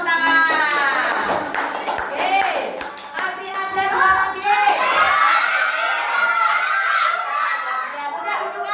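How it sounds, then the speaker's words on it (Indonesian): Classroom children clap together in scattered bursts of applause while kids chatter, laugh and sing-song voices fill the room, the clapping loud and close throughout. "Tepuk tangan."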